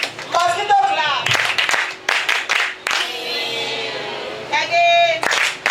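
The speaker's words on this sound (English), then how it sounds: "Let's clap for him. Mosquito clap." A group claps in unison in a classroom-style reading marathon session, the rhythmic "mosquito clap" breaking out in bursts of quick claps between voices and chatter.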